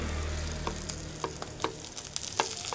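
Onions sizzle in hot oil in a pan for a goat stew, a steady crackling fry with a few sharper pops and stirring scrapes, close and alone with no talking.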